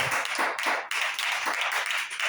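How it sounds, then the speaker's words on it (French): A church congregation at a prayer vigil claps for Joël in a dense, continuous burst of hand claps, loud and close, with uneven rhythm throughout. "Acclamez pour Joël, s'il vous plaît."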